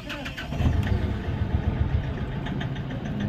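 A Mahindra Scorpio with an mHawk diesel engine runs close by after starting, with a rough, vibrating idle. A steady, rapid tak-tak knock repeats over the engine note.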